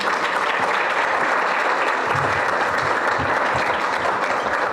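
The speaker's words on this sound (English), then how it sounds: "Now we can give him a big round of applause." Audience applause at a community school ceremony, a steady dense wash of many hands clapping that fills the whole stretch at even loudness, with no voices over it.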